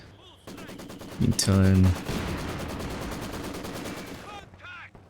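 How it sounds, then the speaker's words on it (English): Mortar and gun fire in a real-time strategy game, with a sharp close burst and a low droning blast, followed by a steady crackle of distant shots beneath a commentator's voice. "Regular mortar being called in as well."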